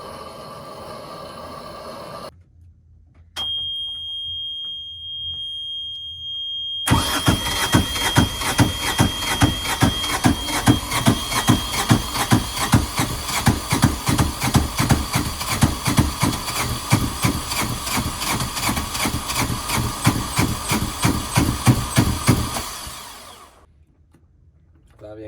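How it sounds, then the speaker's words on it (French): A Yanmar 2GM marine diesel without glow plugs cranks briefly, then catches and settles into a loud, steady rhythmic knocking run for about fifteen seconds before shutting down. "On a un Yanmar 2 GM, puis il n'y a pas de glow plug sur ce modèle de moteur-là."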